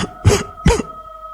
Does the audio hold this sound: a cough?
yes